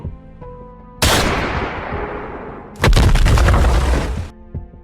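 Two loud explosive blasts in a Gundam manga dub, the first a sharp boom fading into rumble, the second a heavier, sustained roaring burst, both close and dominating the scene.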